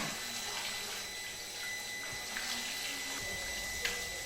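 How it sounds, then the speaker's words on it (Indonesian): Running water from a tap or hose while catfish are cleaned for making shredded catfish floss, a steady continuous wash with faint splashes and clinks, no talking. "Proses membuat abon lele yakni pertama-tama ikan dibersihkan dengan air mengalir."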